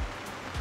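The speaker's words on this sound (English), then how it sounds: "when you're out in conditions actually like it is now, it's raining" Rain falling outdoors as a brief, steady broadband hiss of moderate level, with a couple of soft low thumps and no voices.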